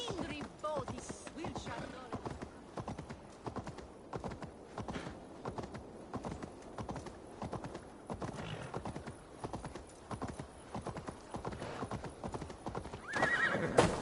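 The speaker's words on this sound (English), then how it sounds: "Stop that horse!" Rapid, steady hoofbeats of a galloping horse in the video game Assassin's Creed Valhalla pound without pause, close and rhythmic, with a brief whinny near the end.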